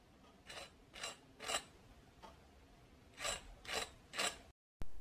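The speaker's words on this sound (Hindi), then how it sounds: "ये कितना क्रिस्पी है इसकी आवाज़ तो आपने सुनी होगी" Crisp crunching bites on fried sabudana vada, a few dry rasping crackles in two bursts with a pause between, close and fairly quiet.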